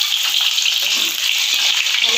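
Garlic frying in hot cooking oil, a loud continuous crackling sizzle that stays steady throughout.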